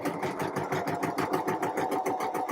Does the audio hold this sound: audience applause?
no